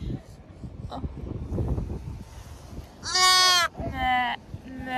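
Sheep bleat close by at a horse-riding yard: two loud, wavering calls after a stretch of quiet rustling, with a fainter bleat trailing off at the end.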